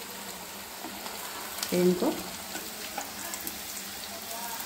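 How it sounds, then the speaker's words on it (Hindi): Wheat flour snack pieces frying in hot oil in a pan over medium heat, with a steady close sizzle and a brief stirring clatter while someone speaks over it. "गोल्डन होने तक इनको अच्छे से फ्राई करेंगे।"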